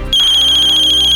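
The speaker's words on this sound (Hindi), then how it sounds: "क्या हुआ अम्मी, किसका फोन है?" A phone ringtone rings loudly and close, starting abruptly as a steady electronic tone that pulses rapidly and holds unbroken to the end.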